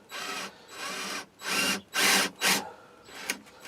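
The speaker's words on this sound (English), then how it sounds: "I've got a 10mm drill bit in because my dowel's 10mm" A drill fitted with a 10mm bit bores at an angle into a small piece of scrap wood, giving several short bursts of whirring and grinding separated by brief pauses, close and fairly loud.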